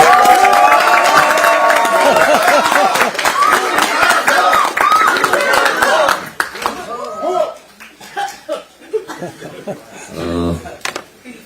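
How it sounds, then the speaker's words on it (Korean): A crowd at a political rally in Gangwon applauds and cheers for a preliminary candidate, with dense clapping mixed with voices for about six seconds before it breaks into scattered claps and talk. "우상호 예비 후보에게 아낌없는 큰 박수를 부탁드립니다"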